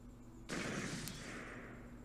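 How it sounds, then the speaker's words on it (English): A small explosion at the lab in the Steins;Gate video game sets off a sudden loud broadband burst with shattering glass as the window breaks, followed by a sustained hissing rush that slowly fades. "The lab window breaks and there is a small explosion."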